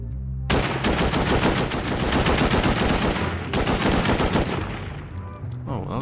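Sustained automatic gunfire rattles loud and close in the survival game Rust, a dense rapid burst that breaks briefly and then resumes before tapering off.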